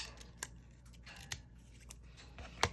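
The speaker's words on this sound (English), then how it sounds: "take two pieces and just kind of cut them together." Scissors cut through two stacked sheets of cardstock with a few sharp, separate snips over a quiet background.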